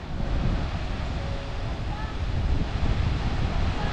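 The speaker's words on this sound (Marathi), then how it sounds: "इकडं बंदर दिसतंय आणि बरोबर अशा गोल लाटा येत आहेत" Round sea waves roll in near a harbour as a steady, dense wash of surf, with wind buffeting the microphone throughout and no distinct breaks.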